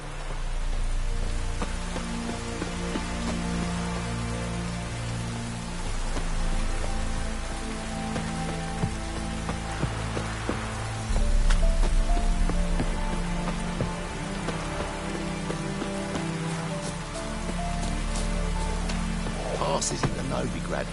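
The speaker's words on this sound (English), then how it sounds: "Looks like rain." Steady rain falling in the Witcher 3 Wild Hunt game world, a constant hiss of drops on surfaces that runs throughout, with game music and occasional character voices over it.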